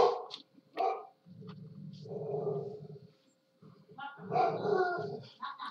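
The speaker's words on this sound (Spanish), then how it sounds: "¡Qué perro de mierda!" A dog barks and whimpers up close, sharp yelps mixed with drawn-out whining cries, coming in bursts separated by brief silences.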